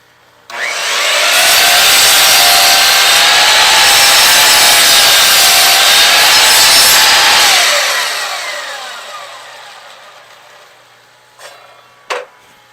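A saw cuts through primed wooden door trim for about seven seconds: a loud, close, continuous whining rasp that fades out, followed by a couple of short knocks.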